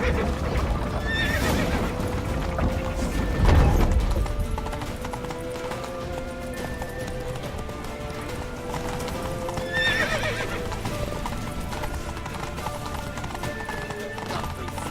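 Horses in The Witcher 3 video game: steady clip-clop of galloping hooves over a low rumble, with several whinnies and neighs breaking through, loud and close throughout.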